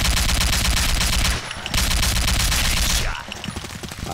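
Rapid automatic gunfire in the Combat Arms video game, dense loud bursts of shots with a short break, then more firing that trails off at the end.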